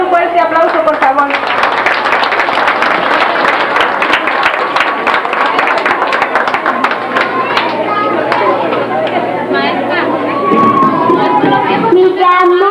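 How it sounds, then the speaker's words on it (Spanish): A crowd applauds loudly and steadily for several seconds, clapping blending with cheers and chatter, tapering slightly near the end. "Brindémosle un fuerte aplauso, por favor."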